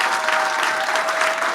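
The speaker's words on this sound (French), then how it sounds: "Vous pouvez l'applaudir." An audience at the Madame Artisanat d'Alsace 2022 awards ceremony bursts into dense, steady applause for a winner, loud and close, with no voices standing out.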